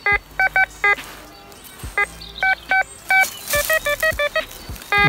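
A Quest Q20 metal detector sweeping over a buried target gives loud, close, repeated short electronic beeps in irregular groups, closing with a quick run of rapid tones.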